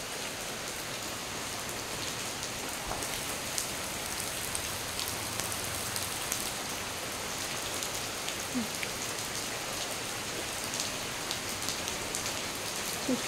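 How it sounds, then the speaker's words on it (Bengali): Steady rain falling outside in the morning after a night-long downpour, a dense even patter on surfaces, continuous and moderately loud with no voices. "বাইরে দেখো কত বৃষ্টি পড়তেছে"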